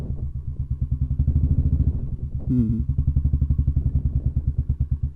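A motorbike rides through the grounds of a large fort, its engine thumping in a close, steady rapid beat with a brief rev and rattle midway, loud and dominant with no talk.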